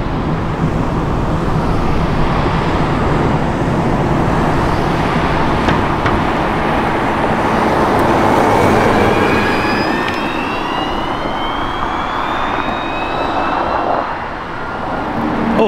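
A Ferrari 296 GTS supercar passes by, a loud, sustained engine roar with rising whine across the run, fading slightly near the end against outdoor traffic ambience; no talk.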